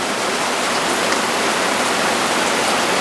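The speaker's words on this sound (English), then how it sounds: "Getting some rain today, but the cheesecake can't wait. Man, it's coming down." Heavy rain pours steadily outside where a Pit Boss smoker sits under an awning, a dense, constant hiss of downpour drumming on surfaces, close and loud throughout with no voices.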